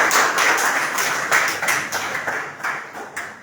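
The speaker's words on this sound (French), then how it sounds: "On peut encore applaudir une fois pour docteur Noah Véronique." An audience at a philosophy café conference session gives a short burst of applause, dense overlapping hand claps that fade within a few seconds.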